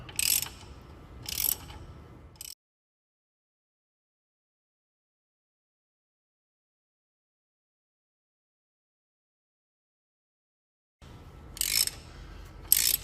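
A ratchet tightens a long crank bolt to seat the harmonic balancer on a 5.0 Ford Mustang, with short bursts of clicking near the start, a long silent gap, then more ratcheting at the end.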